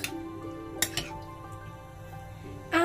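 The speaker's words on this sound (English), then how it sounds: "Whisk it around" A single egg whisked with a utensil in a bowl with chicken for crispy chicken bites, a few quick clinks and scrapes against the side, close, with no talk.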